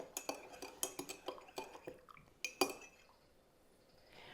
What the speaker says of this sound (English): Stir that up until it melts completely and dissolves all the way into your tea.